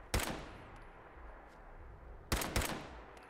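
Gunfire from Fallout 4 on PC: two separate loud bursts, one near the start and another pair of sharp shots about two seconds later, each trailing off into a reverberant tail over low ambient game noise.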